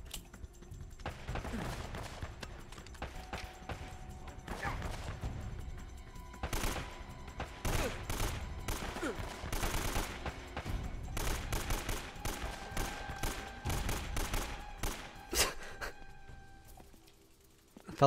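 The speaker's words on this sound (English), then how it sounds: "Some nice blind fire." Rapid bursts of blind-fire gunshots from the Uncharted: Drake's Fortune video game crackle across a busy battle, with sharp repeated reports and scattered impacts layered over game ambience and no talking.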